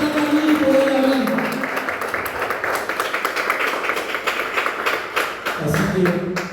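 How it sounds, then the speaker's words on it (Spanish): A church congregation claps along steadily in rhythm during worship, with many hands striking together over singing and amplified music that continue underneath. "Dale un fuerte aplauso al Señor."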